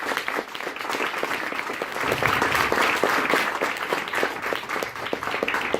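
An audience applauds steadily for several seconds, a dense, sustained patter of clapping that swells slightly in the middle, with no speech over it.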